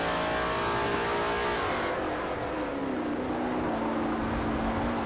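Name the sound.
race car engine revving through a corner, Forza video game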